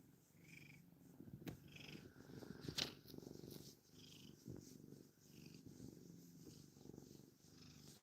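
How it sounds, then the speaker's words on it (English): A rescue cat purrs steadily and softly up close, a continuous low rumbling rhythm with faint room noise and no talking. "you got a good purr going on there, don't you, buddy?"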